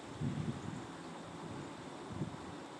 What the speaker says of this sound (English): Wow, this wind is weird.